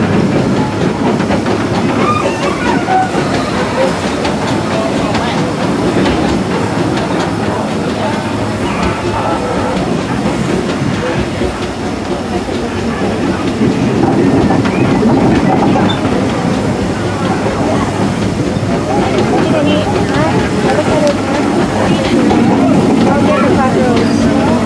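Rattling rumble of a mining-style train ride at Disneyland, California, steady and close throughout, with crowd chatter and voices mixed in over the rolling wheels.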